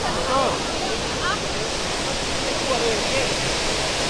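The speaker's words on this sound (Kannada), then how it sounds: "ನಿಮ್ಮ ಮುಂದೆ ಇದೆ ಇವತ್ತು ಅಬ್ಬಿ ಫಾಲ್ಸ್" Abbi Falls waterfall gives a close, loud, unbroken roaring rush of falling water that stays steady throughout, with a voice briefly audible beneath the constant roar.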